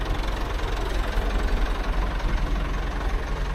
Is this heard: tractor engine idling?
yes